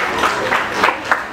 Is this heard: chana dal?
no